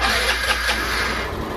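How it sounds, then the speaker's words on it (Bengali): A Hero Xoom scooter's engine fires up on the electric self-starter, with a brief starter whir settling into a steady, moderately loud idle hum. "এক সেলফে আমাদের বাইক পুরো একদম স্কুটার স্টার্ট হয়ে গেল।"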